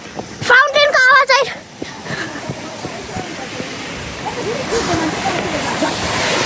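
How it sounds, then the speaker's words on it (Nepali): Splashing water from a fountain near the entrance of a botanical garden, a steady broadband wash that follows a short burst of voices at the start. "फाउन्टेनको आवाज"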